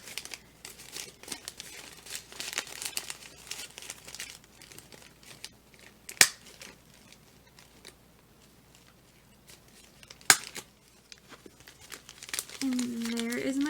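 Sheets of newspaper are crumpled and stuffed into a puffy paper craft tree, giving a steady close crinkling and rustling with a couple of sharp crackles, while a person talks throughout.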